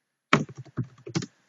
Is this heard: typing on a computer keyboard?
yes